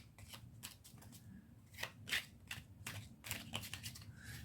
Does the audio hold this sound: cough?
no